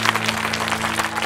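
An audience bursts into brisk clapping at a Shirdi Sai bhajan performance, dense, quick hand claps layered over a sustained musical drone, continuing for the whole moment.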